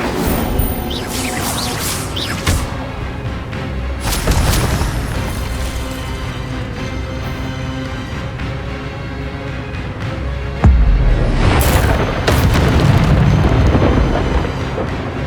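Incendio fire spell from the Hogwarts Legacy video game bursts in loud booming blasts with crackling rushes, amid a dense, continuous din of combat sounds and impacts.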